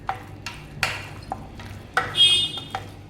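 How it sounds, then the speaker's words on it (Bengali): Chicken pieces get mixed by hand into a thick batter for chili chicken, giving soft wet squelches and stirring scrapes in an irregular rhythm, close and fairly quiet. "এর মধ্যে এবার চিকেনগুলো দিয়ে দেবো। চিকেনগুলো দিয়ে ভালো করে মাখিয়ে নিচ্ছি।"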